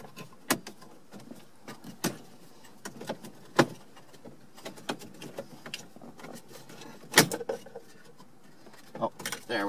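Plastic interior trim panel on a Ford Taurus being pushed and clipped into place, a series of close, sharp clicks and knocks spread through the clip with someone speaking quietly between them.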